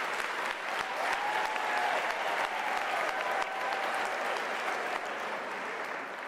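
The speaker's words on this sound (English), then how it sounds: "Can you give them a round of applause?" Sustained applause from a large audience at a university graduation ceremony, a steady dense wash of clapping that stays loud and even for the whole stretch with no talk over it.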